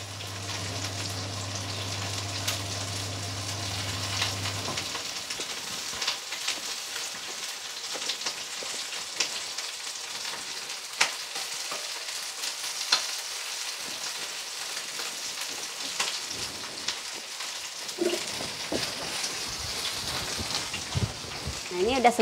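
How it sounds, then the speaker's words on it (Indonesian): Bread-wrapped shrimp balls fry in hot oil with a steady, dense crackling sizzle that runs continuously, close and moderately loud, with a low hum at the start and a few scraping stirs near the end. "Oke, kita goreng juga udang balut rotinya."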